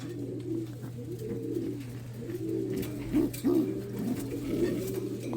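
A revived pigeon gives soft, repeated cooing calls in a low, rolling rhythm. The calls are close but fairly quiet over a steady background hum, and no one speaks.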